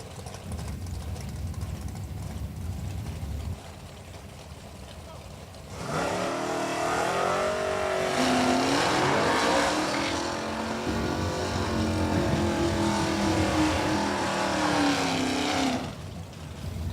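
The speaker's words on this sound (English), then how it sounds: "one of 4 Oldsmobile Achievas we see out here on the left-hand side" An Oldsmobile Achieva drag race car accelerates hard down the strip, its engine roar surging in loudly after a quieter idle and holding for about ten seconds before dropping off, heard at a moderate distance.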